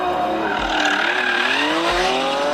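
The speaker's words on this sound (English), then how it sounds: "It will actually light up those rear wheels with not too much assistance from the traction control." Lamborghini Revuelto lighting up its rear wheels, a loud sustained tire squeal with a rising engine note sweeping upward, close and continuous, with brief low thumps near the start and end.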